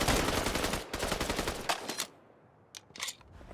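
MP40 submachine gun in a video game firing a rapid sustained burst, then a short pause and a few more quick shots, loud and close.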